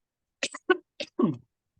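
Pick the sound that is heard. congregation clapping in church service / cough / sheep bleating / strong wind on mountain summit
cough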